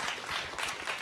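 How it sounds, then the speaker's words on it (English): A thick, continuous burst of audience applause for a speaker at a science café on rabies in North Carolina, close and even throughout the short moment. "how about a nice round of applause for Dr. Carl Williams?"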